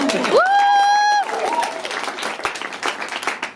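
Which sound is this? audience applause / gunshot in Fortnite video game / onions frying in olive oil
audience applause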